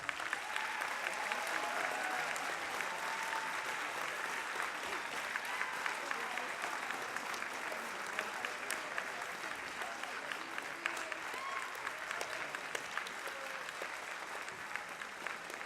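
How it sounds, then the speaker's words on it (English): At a junior high spring band concert, a crowd applauds the young band students with steady, dense clapping that runs unbroken for about fifteen seconds, heard from a distance with faint voices mixed in. "Could you give these young people one more round of applause?"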